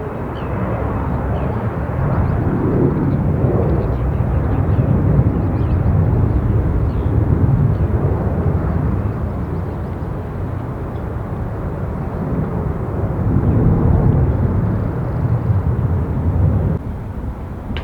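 A JetBlue airliner passes in high winds, a loud broad roar sustained for the whole stretch, swelling slightly in places.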